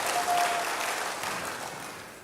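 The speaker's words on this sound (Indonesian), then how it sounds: "Berikan tepuk tangan bagi Tuhan" A church congregation claps during a sermon, a steady wash of applause filling the short moment and easing slightly at the close.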